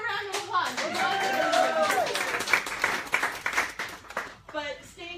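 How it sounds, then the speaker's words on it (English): Applause from a community audience at an art exhibit of origami paper cranes, a dense burst of clapping that builds and then thins, with voices and crowd chatter mixed in. "Give yourselves a round of applause."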